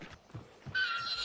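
A horse neighs in the video game Hunt: Showdown, a short bright whinny rising suddenly after a few soft low thuds, heard fairly close and alone.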